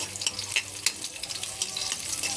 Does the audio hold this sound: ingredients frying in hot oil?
yes